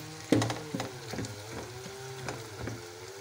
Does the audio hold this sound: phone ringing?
no